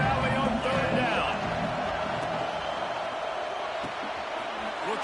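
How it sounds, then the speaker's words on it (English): Big football crowd roaring in Happy Valley on third down, a dense, sustained stadium din of cheering and yelling that holds steady throughout, with scattered voices and whistles cutting through. "Here comes the the noise from this big crowd in Happy Valley on third down"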